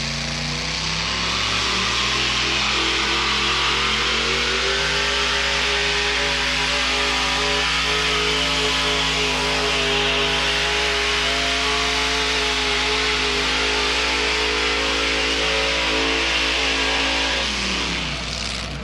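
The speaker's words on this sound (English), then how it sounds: "Modified pulling tractor from Stewiacke, Nova Scotia." A modified pulling tractor from Stewiacke, Nova Scotia, roars at full power during a truck and tractor pull. Its engine climbs in pitch at first, then holds a loud, sustained howl for nearly twenty seconds before cutting back sharply at the end.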